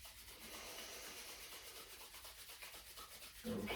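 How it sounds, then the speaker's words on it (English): Palms rubbed briskly together to build warmth, a steady dry brushing friction that carries on for several seconds, close and fairly quiet, ending in a slightly louder swell. "you rub your hands together, generate some heat, some energy"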